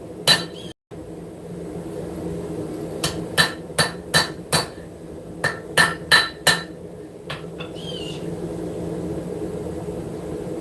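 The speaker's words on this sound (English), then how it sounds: "move over to my integral bolster section of this anvil" Hammer blows on metal over the integral bolster of a blacksmith's anvil during forging, a series of sharp ringing strikes in short bursts over a low forge rumble, with a brief pause early on.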